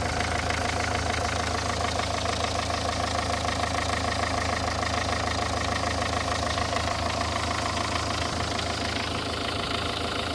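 A Renault 1.5 dCi diesel car engine idles steadily and close by, with injectors leaking fuel, a constant rough rumble with faint knocking, unchanging throughout and with no voices.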